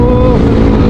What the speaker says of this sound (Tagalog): yung hangin, grabe